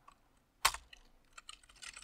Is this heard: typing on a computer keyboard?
yes